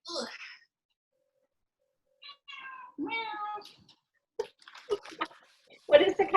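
A pet cat named Lucy meows a few times in a home kitchen during baking, short high cries spaced apart, with people talking nearby and some clattering.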